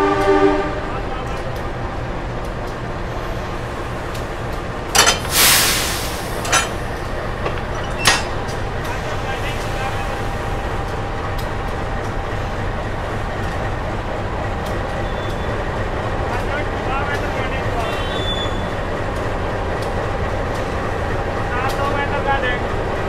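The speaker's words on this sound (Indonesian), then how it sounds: "Proses pemasangan lokomotif dinas kereta api Taksaka dengan rangkaian kereta" Locomotive CC 206 couples to the Taksaka train carriages at a station, with a steady diesel engine rumble throughout, a few sharp metallic clanks and a brief horn-like burst early on, and people talking over it.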